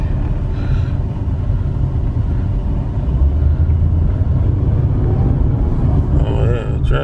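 A 2006 Ford Taurus on a test drive after a dealer auction purchase, its steady low engine and road rumble filling the cabin continuously with a brief higher whine near the end.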